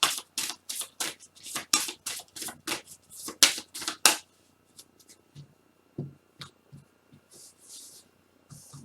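Tarot cards are shuffled in a rapid burst of crisp riffling flutters, followed by quieter single card slides and taps as cards are drawn and laid down.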